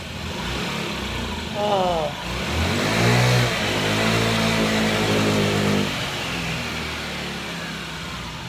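A scooter being fixed up for resale runs a little rough, its engine idling and then revving up and down in a close, droning rise and fall, with brief exclamations from people nearby.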